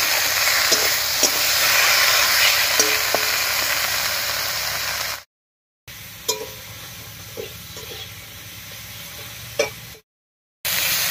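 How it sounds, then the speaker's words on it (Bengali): Jackfruit seeds fry in a pan for a vegetarian Bengali kochur loti dish, a steady broadband sizzle with scattered stirring clicks, broken by two short silent gaps, with no talk. "কাঁঠালের বিচিটা বেশ একটু ভাজা ভাজা হয়ে গেছে, এবার এর মধ্যে বেটে রাখা মশলাটা দেব।"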